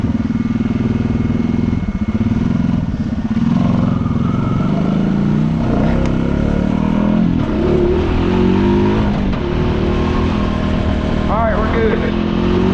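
A four-wheeler engine in a hurricane shifts down and revs through a loud, continuous rumble with clattering gear changes, mixed with storm noise and someone talking over it.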